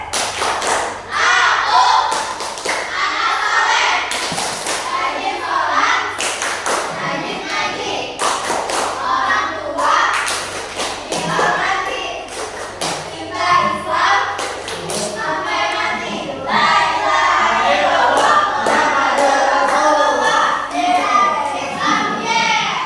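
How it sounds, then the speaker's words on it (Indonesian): Children clap the rhythmic 'tepuk anak soleh' chant in a classroom, sharp bursts of hand claps in patterned groups mixed with young voices chanting along. "1, 2, 3. Tepuk anak soleh."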